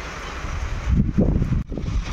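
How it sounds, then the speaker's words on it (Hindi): Wind gusts and rain at a railway station, a rough, blustery rush with buffeting on the microphone and no clear voices. "हवा चल रहा है, बारिश हो रही है बस।"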